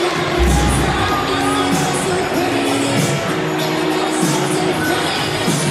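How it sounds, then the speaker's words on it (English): Arena crowd at a 2019 Nebraska vs Penn State women's volleyball match cheers steadily in a loud, sustained roar for the full stretch, with a broadcast voice talking over it. "That's why you hear the cheer from the crowd."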